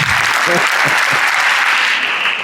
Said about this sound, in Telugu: ఈమె కూడా చప్పట్లు కొట్టండి.